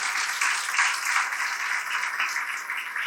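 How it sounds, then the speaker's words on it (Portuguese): Church congregation at a worship service gives a strong round of applause, dense steady clapping filling the room at an even level throughout, with no voices over it. "Dê um aplauso bem forte ao Senhor."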